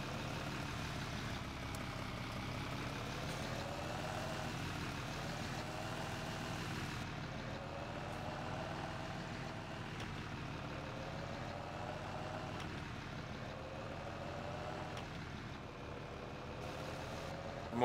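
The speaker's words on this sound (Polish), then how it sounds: "Ale teraz się rozpędza ten traktor, co?" A Fendt Favorit 500 tractor engine in Farming Simulator 17, rated around 130 to 148 horsepower, gathering speed as a steady, fairly quiet mechanical drone whose pitch shifts gently up and down, with no voices.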